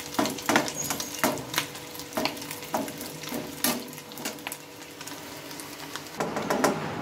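Lentil and wheat-flour snacks deep-frying in oil, a steady bubbling sizzle punctuated by repeated clinks and scrapes of a utensil lifting pieces from the pan.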